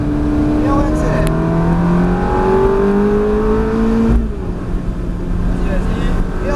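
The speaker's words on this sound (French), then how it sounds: "Et on accélère." A Ferrari F430 F1 accelerating hard on the Mérignac race circuit, its engine note climbing steadily through the revs up close, then easing after a shift near the end.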